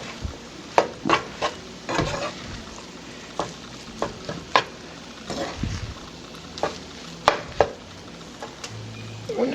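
Spoon stirring Trader Joe's frozen orange chicken into fried rice in a pan gives close, irregular scraping clacks and taps against the pan over a light steady sizzle, with no talking.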